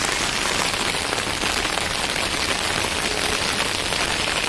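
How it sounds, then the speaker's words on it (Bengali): Heavy rain drumming on an umbrella on a rainy day in Chittagong, Bangladesh, a dense, constant close patter with no pauses and no talk. "আর বৃষ্টির শব্দ তো আপনারা শুনতে পাচ্ছেন,"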